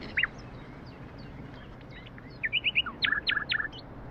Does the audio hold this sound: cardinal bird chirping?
yes